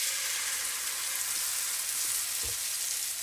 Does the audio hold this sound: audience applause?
no